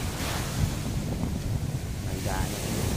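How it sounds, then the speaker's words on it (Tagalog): Big ocean waves breaking on the shore of Busdak island in Bacacay, Albay, a steady, loud surf roar mixed with gusting wind buffeting the microphone, with no voices heard. "So ito malalaki yung alon dito mga idol, oh."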